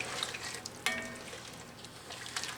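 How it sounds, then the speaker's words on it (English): Beef stroganoff being stirred in a pan, the spoon scraping the bottom with soft intermittent scrapes over a steady low sizzle, with one sharper clink partway through. "Now, I'm just going to stir this for a couple minutes. Get all that good stuff off the bottom"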